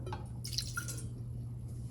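Liquid is poured into a bowl while making tiramisu, giving soft drips and a trickle over a steady low background hum.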